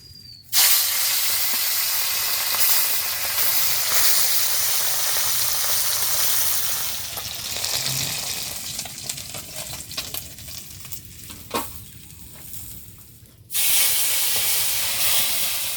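Hot oil sizzling in a heated wok before salt goes in, a loud hissing fry that bursts on suddenly, eases down with crackles and pops, then surges back loud near the end.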